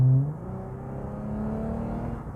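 A Lexus IS250 engine drones steadily with a low note from a louder aftermarket Pirtech exhaust, rising slightly as it revs, heard close and without talk.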